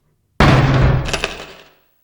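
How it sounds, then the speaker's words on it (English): Frantic pounding from inside a locker in the nightmare world of the 1999 PlayStation horror game Silent Hill, a single loud burst of heavy banging that rings out and quickly fades. "when you revisit that locker in the nightmare world, the same knocking can be heard, more frantic this time"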